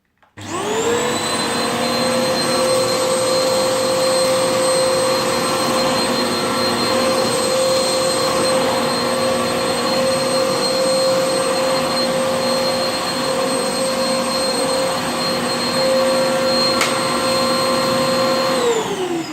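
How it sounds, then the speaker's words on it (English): A Hoover Optimum Power Pets TP710P01 upright vacuum cleaner whirs loudly and steadily after switching on, its high motor whine holding constant for the whole stretch. "So this is what it's like in use."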